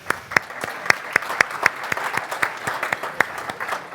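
Warm, steady applause from a rail safety conference audience, with many distinct sharp claps ringing through a hall for several seconds.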